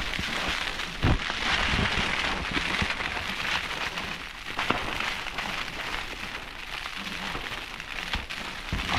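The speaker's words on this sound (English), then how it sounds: "The rain's not coming in, so it's alright." Steady rain patters on a camping tent during a wild stormy night in the Cheviot hills, a dense, continuous hiss of drops close by with a few louder taps and no talking.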